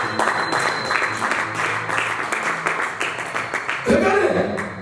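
A church congregation applauds and cheers in praise of Jesus, a dense, steady wash of clapping with voices mixed in, swelling slightly louder near the end.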